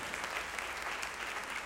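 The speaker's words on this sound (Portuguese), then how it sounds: "Não, pode aplaudir." A church congregation applauds during a sermon, a steady dense clapping from many hands held at an even level throughout, with no voice over it.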